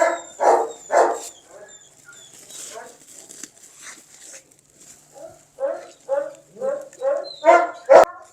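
A bully dog puppy gives a string of sharp barks and yips mixed with whimpers, loud and close, coming in bursts with short gaps, the last few coming quicker.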